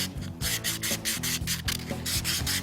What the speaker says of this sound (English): get in there with your hands, and you'd hand sand that